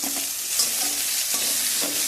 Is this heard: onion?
yes